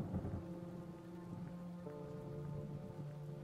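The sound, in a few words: rain and thunder sound effect in a story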